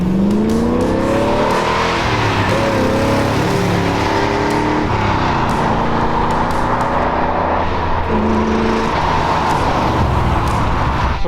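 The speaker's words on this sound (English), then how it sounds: "So Robert got to feel the pure power of that 69 440." A 1969 Dodge Charger with a 440 engine accelerates hard, its loud V8 revving up through rising gear pulls with shifts between them and a touch of tire squeal, close and continuous.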